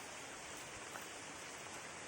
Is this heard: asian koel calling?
no